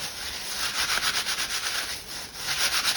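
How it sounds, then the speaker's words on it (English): Leafy camouflage material being rubbed and scrunched between two hands, a close, steady rustling scrape in repeated strokes with no talking. "just grab it and just rub it between your hands, just scruff it up"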